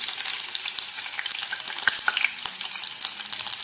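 Chopped onions go into hot oil already spiced with panch phoron for a pumpkin-skin stir-fry, giving a loud, close, continuous sizzle with scattered crackles and spatters.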